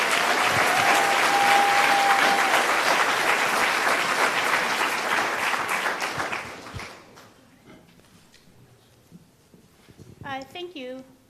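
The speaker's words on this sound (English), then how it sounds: "If we can give a round of applause to the Director of Health and Human Services for the County of Humboldt," A town hall audience applauds loudly for a county health and human services director, then the clapping thins and fades out. A voice speaks briefly near the end.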